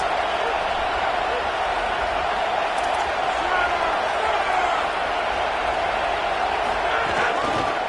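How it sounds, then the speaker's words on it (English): A packed college football stadium crowd roars loudly and continuously for the defense during a USC versus Penn State game, a dense sustained wall of noise with no clear breaks. "Listen to this crowd just shaking the girders of this place, trying to help their defense."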